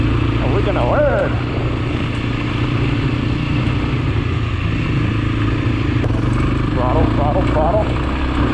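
An off-road motorcycle ridden by a newbie rider drones with steady engine noise while throttling over rough terrain, a constant low rumble with brief revving bursts and some clatter near the microphone.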